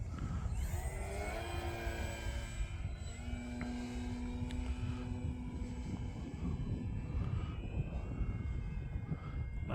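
Arrows Husky Ultimate RC model airplane drones overhead at a distance through a big long roll, its propeller engine whine shifting pitch steadily, faint against breezy background noise.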